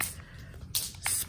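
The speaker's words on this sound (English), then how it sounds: "just be generous with your spray and just be careful because it does tend to get over a large area around you" A spray bottle mists liquid onto a craft background in two short, crisp hissing bursts, close and clear over a soft low background.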